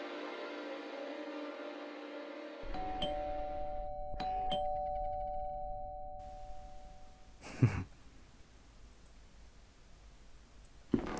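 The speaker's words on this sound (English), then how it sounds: "doorbells just have a habit of ringing themselves." Doorbell in the game The Last Door, a two-tone ding-dong chime rung twice in quick succession over a low ambient drone, followed by a sharp thud and quiet room tone.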